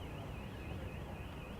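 A car, house or shop alarm wails far off during a county cricket match, a faint warbling siren that rises and falls steadily through the whole moment beneath broad outdoor noise.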